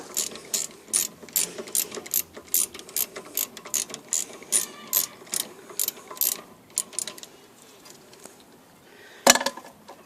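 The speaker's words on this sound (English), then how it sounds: "take a 14mm socket and then just undo the top caliper bolt" A ratchet fitted with a 14mm socket undoing a rear brake caliper bolt on a 2009 Mazda 6, a long run of loud close metallic clicking strokes in steady rhythm, ending with a sharp clank, no talk.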